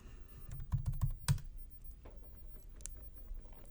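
Someone types a server command on a computer keyboard during a PHP programming tutorial, a quick burst of close clicking keystrokes followed by a few sparser taps, with no one talking.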